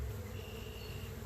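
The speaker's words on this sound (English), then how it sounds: "see all the bees out here, they're trying to get in." Honey bees hum in a dense, continuous drone around a garden hive as many of them try to get back inside, the buzzing steady and close with no talk.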